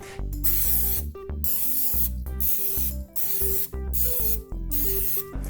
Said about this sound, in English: we're just going to spray them with cooking spray